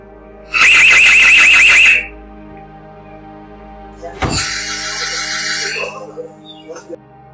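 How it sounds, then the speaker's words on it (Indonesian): A loud CCTV security alarm blares for about a second and a half at a house after an intruder climbs a fence, then a sharp thud followed by a fainter, fluttering beeping tone. "alarm CCTV milik warga langsung berbunyi."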